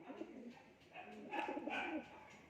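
Pigeons coo softly close by in a loft, a couple of low throaty phrases in a brief, quiet stretch with faint background murmur.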